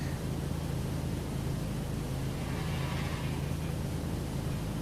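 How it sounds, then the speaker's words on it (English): Video game soundtrack that resembles white noise: a steady, dense broadband hiss with a low hum underneath, constant in level throughout with no melody or rhythm. "it just sounds like white noise. It doesn't really sound like music."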